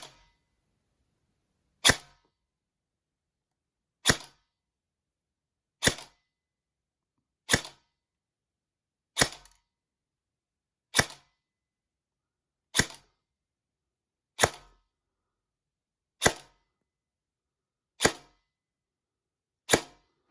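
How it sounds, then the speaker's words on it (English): An upgraded Specna Arms SA-E07 airsoft rifle fires a series of sharp single shots, roughly ten, evenly spaced about two seconds apart, each a crisp snap with silence between. "first up we're going to do 10 shots with the E07"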